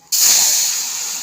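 Boiled dal poured into hot mustard and chilli tempering sets off a sudden loud hiss that bursts in at once and slowly fades while still sizzling strongly.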